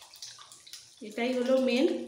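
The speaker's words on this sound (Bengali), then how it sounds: "এবার জলটা সবটা দিয়ে দিচ্ছি।" Tamarind water pours into a cooking pan of aloo dum, a steady watery splash that starts suddenly halfway through, close and fairly quiet, after a few words of speech.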